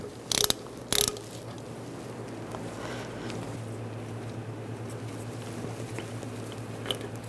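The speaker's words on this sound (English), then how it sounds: "Using an 11mm socket, take the banjo bolt out." A hand ratchet with an 11mm socket backs out the banjo bolt on a rear brake hose of a 2008-2017 Buick Enclave, a couple of sharp, loud ratcheting bursts near the start, then quieter mechanical fiddling over a steady hum.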